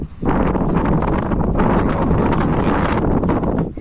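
Strong wind outdoors buffeting the microphone at a backyard with rabbits, geese and chickens, a loud continuous rumbling roar with gusty swells and no clear voices.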